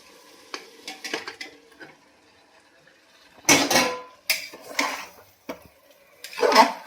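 Chicken and boiled potatoes are stirred in a pressure cooker pot, with scattered metallic scrapes and clanks of a spoon against the pot coming in short, uneven bursts and pauses.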